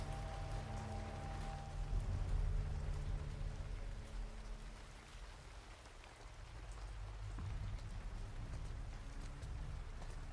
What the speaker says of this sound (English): Rain has started.